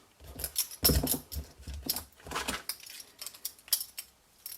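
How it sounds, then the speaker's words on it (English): A good pair of scissors snips through paper during a Christmas fold-flat card-making craft, producing a run of irregular close crisp cuts and rustles, soft and without talk. "you need to start cutting. So get yourself a good pair of scissors."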